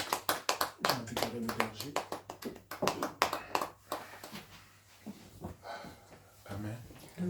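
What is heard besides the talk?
church congregation clapping to acclaim the Lord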